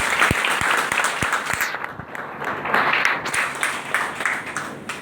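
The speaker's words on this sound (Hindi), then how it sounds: "मैं चाहता हूं एक उनके लिए भी एक जोरदार ताली।" Audience at a motivational talk breaks into loud applause, individual sharp claps standing out at first before merging into a sustained dense wash of clapping.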